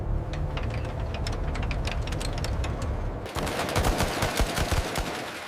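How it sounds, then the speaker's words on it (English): An F-35 fighter jet's GAU-22 rotary cannon firing 3,300 rounds per minute, rapid continuous gunfire in sustained bursts, loud and harsh, intensifying partway through into a denser roar. "the GAU-22 rotary cannon"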